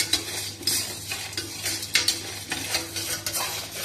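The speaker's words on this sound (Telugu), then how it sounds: "ఇవన్నీ వేసి వేయించుకుందాం దీంట్లో కొంచెం ధనియాలు కూడా వేసుకుందాము" Chana dal and coriander seeds dry-fry in a pan while a utensil stirs them. Repeated metallic scrapes and clinks sound over a faint, steady sizzle.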